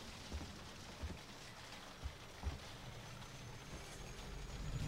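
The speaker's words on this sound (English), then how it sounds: "It's raining." Steady rain in the video game Alien: Isolation patters over a broad hiss, with a few soft low thumps scattered through and the wash growing slightly louder toward the end.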